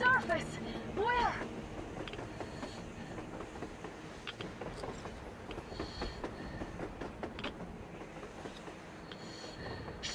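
In the video game Metro Exodus, a train rumbles along with steady clickety-clack and some squealing wheels, loud at first then settling into a continuous roll while people talk over it.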